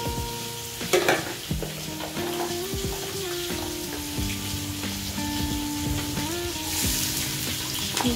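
Onions sizzle in hot oil in a pan, a steady crackling fry with stirring sounds through the whole stretch and no talking.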